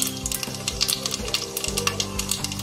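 Whole spices, cloves, bay leaf, cardamom and fennel, sizzle in hot oil for a vegetable biryani, a steady close crackle with occasional spoon stirs, no voices.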